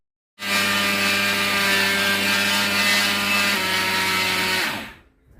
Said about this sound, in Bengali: এদিকে আমি গুঁড়ো করে নিই আগে